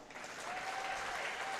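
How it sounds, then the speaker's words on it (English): A basketball crowd at an NBL1 men's game in Melbourne applauds a Hall of Fame inductee, with steady, sustained clapping filling the arena at moderate loudness throughout. "So he was going to get a big reception here from this Tigers crowd"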